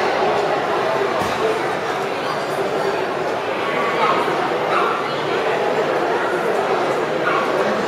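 Cavalier King Charles spaniels bark and yip at a dog show, with short bursts breaking through a busy hall. Crowd chatter and an announcer's voice run steadily underneath.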